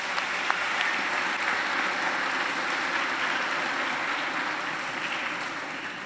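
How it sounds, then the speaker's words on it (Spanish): Congregation applauding religious education children and young people during a Palm Sunday solemn Mass, a sustained wash of clapping heard from some distance in a large reverberant church, steady and moderately faint throughout. "un aplauso muy grande para todas estas criaturas"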